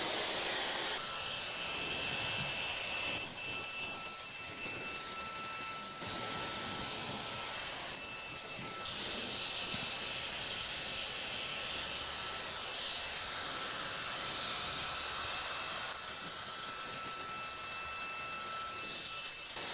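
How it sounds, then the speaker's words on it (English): A hair dryer on its cold setting blows steadily onto a freshly cut low taper fade, a close, loud, continuous rushing whoosh with slight shifts in tone as it moves around the head. "now I'm just gonna go back and blow dry it with cold air"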